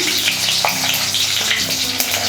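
Steady, crackling sizzle of garlic and spices frying in hot oil, close up, with a few faint clinks and stirring sounds.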